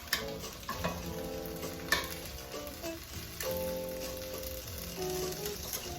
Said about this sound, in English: there's nothing else to do besides pouring it and stirring it for a few more seconds